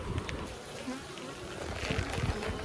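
Honeybees drone in a soft, continuous buzz during an open beehive inspection, fairly faint with small swells in loudness throughout.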